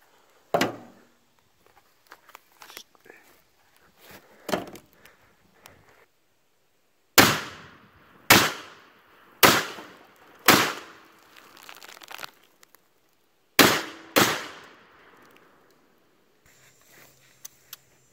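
A pre-ban AK-47 rifle fires at a bag of pumpkin pie mix outdoors: about a dozen sharp, loud cracks, some spaced and some in quick pairs, each ringing off briefly, with quiet gaps between.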